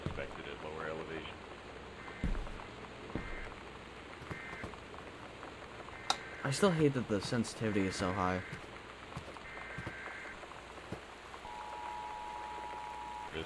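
Steady torrential rain patters on surfaces through a stormy night in the video game Gone Home, a constant close wash with occasional thuds and tones, while a person talks over it.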